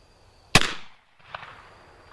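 A single sharp report from an 1860 Army black powder revolver fired outdoors at ten yards, loud and close, with a short decaying boom and a faint echo afterward.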